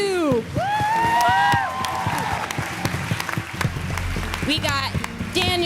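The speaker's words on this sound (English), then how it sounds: "Now can we get a round of applause for our drummer," An audience applauds a drummer at a graduation concert. The sustained clapping runs under loud, overlapping voices and cheers throughout.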